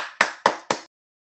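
Three loud hand claps in quick succession, close and sharp, given as applause for college graduates at a graduation congratulations message, then silence.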